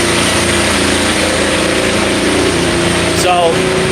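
A race car engine at the Indianapolis Motor Speedway runs loud and steady at a constant pitch throughout, with a faint higher whine rising briefly near the end.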